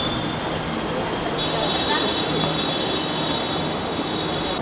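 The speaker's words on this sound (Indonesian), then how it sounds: "Menunggu MRT-nya." An MRT train arrives at an elevated station, its wheels squealing in a steady high metallic whine over a loud rumbling roar, close by and continuous.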